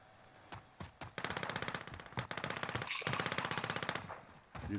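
Sustained automatic gunfire in Call of Duty: Modern Warfare Plunder, loud rapid bursts with a few brief pauses, ending in a short final burst.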